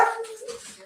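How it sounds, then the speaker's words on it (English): A loud dog gives a short whimpering yip, a single brief high-pitched cry that trails off quickly, heard alone without talk. "My dog is loud."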